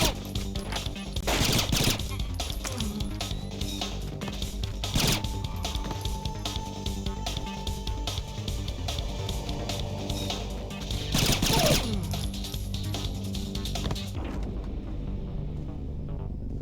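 Rifle fire in the stealth video game Splinter Cell, with bursts of rapid gunshots and mechanical clatter over a continuous game soundscape, loud and close, sometimes under a man's speech.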